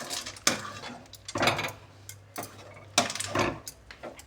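A spoon scrapes and stirs sesame laddoo mixture in a pan, in soft, regular strokes about once a second, close and alone with no voices.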